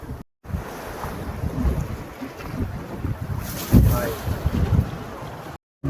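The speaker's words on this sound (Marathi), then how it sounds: "बोट चालू झाली आहे" Motorboat ride on the sea off Bhate beach, with wind buffeting the microphone and waves slapping and surging around the hull. A continuous roar with brief dropouts, and voices faintly mixed in.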